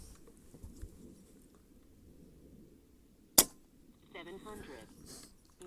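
A single sharp crack from an Air Arms S510 TXS .22 air rifle firing JSB 18.13 pellets at 50 yards, standing out once against a quiet background with faint room noise and low murmur around it.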